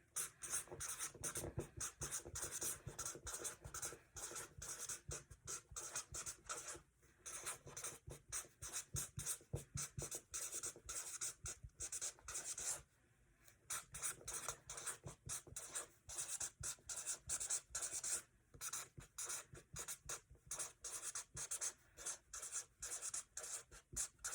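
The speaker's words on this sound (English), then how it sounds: "I'm going to write down what I would say" Pen scratching steadily across paper while notes are written down for about half a minute, close and continuous with brief pauses, no talking.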